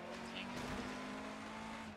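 Lancia Fulvia rally car engine in the video game Dirt Rally: a steady, droning engine note held at constant revs with road and gravel noise, continuous throughout.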